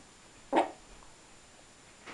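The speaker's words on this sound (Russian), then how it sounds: "И Лялька лает." A small dog gives a single short, fairly loud bark, followed by a faint hint of another at the very end, in an otherwise quiet indoor room.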